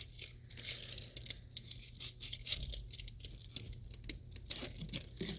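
Material being folded in half by hand during an install on a 2011-2016 Ford truck, heard as soft crinkling and rustling close by, irregular and quiet.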